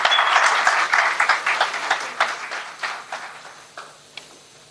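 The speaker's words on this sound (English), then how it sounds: "let's make him feel the ILM energy with a big round of applause" Audience applause at a B.Tech orientation event, starting as a dense, loud burst of clapping that gradually thins and fades into scattered claps over several seconds.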